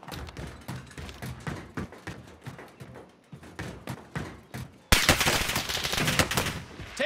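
Rapid gunfire from the video game Call of Duty: Modern Warfare, dense bursts of shots throughout, growing louder and more continuous in the final seconds.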